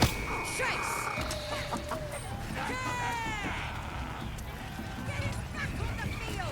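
Hens cluck and squawk in a frantic chicken chase within the fantasy game Baldur's Gate 3, with busy chirping calls and rising squeals over a steady game soundscape, while a voice narrates beneath.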